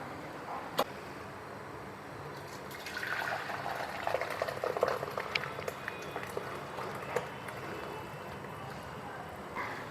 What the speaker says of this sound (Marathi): आपली कढी छान उकळली आहे